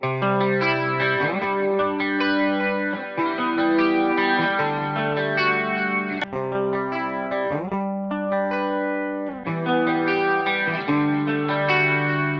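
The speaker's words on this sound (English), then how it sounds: "This is that clean picking sound that I had at the start" A clean electric guitar, double-tracked and panned, through the Fine Classics pedalboard plugin's Indie preset, picks a gently flowing melodic line, notes shimmering with a chorus-like wobble, playing alone at a moderate level.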